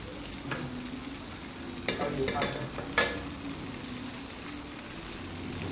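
Shrimp frying in a pan give a quiet, steady sizzle, broken by a few louder clatters and scrapes as they are turned over with a utensil.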